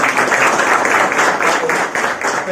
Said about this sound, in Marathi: त्याच्यासाठी पुन्हा एकदा टाळ्या बाजू आपण